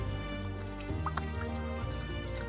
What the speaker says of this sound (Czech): Jako první si do kotle dáme ocet.